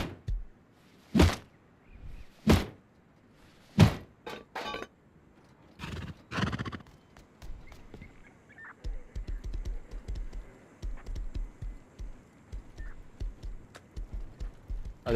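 Horse sounds from the video game Rust Console: several sharp, loud hoof or neigh bursts spaced apart in the first half, then a busier stretch of rapid clattering footfalls and game noise, with no talking.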